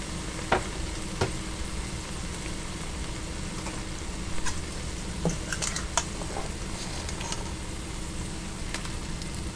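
Stew beef hitting a pot of hot sofrito for a Caribbean-style stew, giving a steady, close sizzle and frying hiss with occasional sharper pops and crackles throughout.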